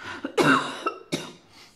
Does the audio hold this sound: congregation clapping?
no